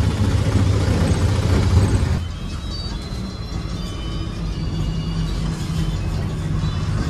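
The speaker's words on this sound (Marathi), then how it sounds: "निघालोय आम्ही, बस पकडली आहे अक्कलकोटवरून. ST आहे सोलापूरसाठी" A state transport (ST) bus travels from Akkalkot toward Solapur. A loud engine roar drops suddenly to a steady lower rumble with road noise, and no clear talk is heard.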